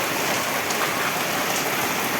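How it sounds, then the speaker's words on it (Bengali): Heavy rain falls in a steady, dense downpour, loud and close, drumming evenly on surfaces without any talking. "আর যে পরিমাণের বৃষ্টি নামতেছে, অনেক বৃষ্টি।"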